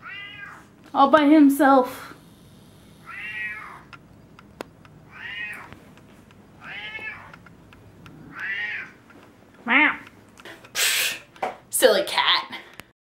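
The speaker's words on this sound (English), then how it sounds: "Silly cat." A cat meows repeatedly, about nine drawn-out calls spaced a second or so apart, close and clear, with a person speaking briefly between them.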